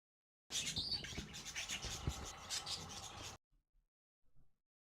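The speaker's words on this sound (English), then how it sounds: "The birds are freaking out." A few seconds of scratchy, chirping bird calls, fairly close, ending abruptly and followed by near silence with a couple of faint taps.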